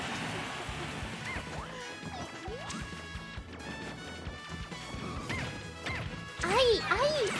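Hammer item blows land in a hectic Super Smash Bros. Ultimate match, sharp smashing hits amid game music and effects while a player shouts excitedly over them.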